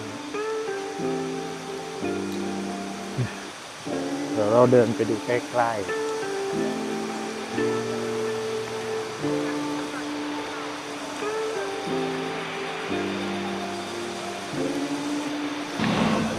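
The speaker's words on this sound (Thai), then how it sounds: "ขึ้นมาถึงน้ำตกชั้นแรกแล้ว" First tier of the Tad Kuang Si waterfall near Luang Prabang, Laos, rushes as a constant broadband wash under a voice and steady background music, with a brief clatter midway.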